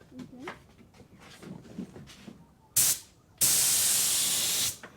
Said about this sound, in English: he's never had a go of a spray gun before